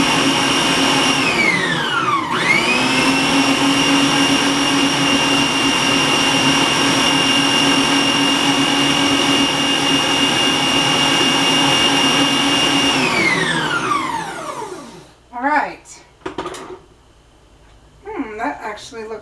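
Electric mixer whirring through chocolate candy marshmallow cookie dough, a loud steady motor drone that ramps up, runs evenly, then winds down and stops, followed by brief clatter and scraping sounds.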